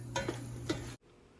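Pork sausage frying in bacon grease, a steady close sizzle with a couple of stirring scrapes for about a second before the sound cuts off.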